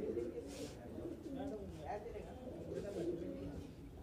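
A fulsara pigeon coos softly in repeated throaty bursts at low volume, mixed with someone talking nearby.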